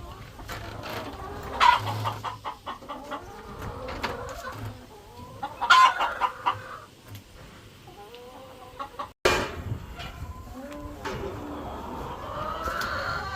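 Pasture-raised laying hens cluck and murmur in a hen house, with a few louder squawks and a sharp burst near the end, over a steady rustle from the birds.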